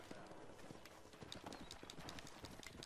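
Horse hooves clip-clop in rapid, even rhythm in the Western video game Red Dead Redemption, a quiet steady gallop with no talk over it.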